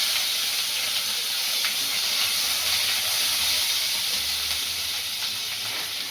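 Tomato sizzles in hot oil for a tempering, making a steady, loud hiss of frying that holds even throughout. No one speaks.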